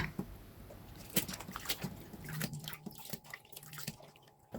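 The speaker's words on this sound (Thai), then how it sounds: "แล้วนำไปล้าง 2-3น้ำนะคะ จนกว่าน้ำจะใสดีเลยค่ะ" Bamboo shoots being rinsed in water in a home kitchen, with soft splashes, drips and trickles close by at low volume, quiet and irregular throughout.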